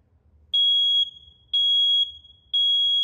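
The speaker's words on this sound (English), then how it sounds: "Smoke alarm silenced in the bedroom." A Nest Protect 2nd generation smoke alarm sounds three loud, piercing high-pitched beeps, each about half a second long, evenly spaced one second apart in a quiet room.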